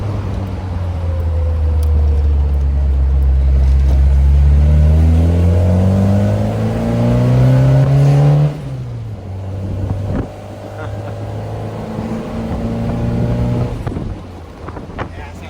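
A 1980 Fiat Spider 124 engine revs loud and close, its pitch climbing steadily before dropping off sharply and then idling and revving again, with wind buffeting the microphone throughout.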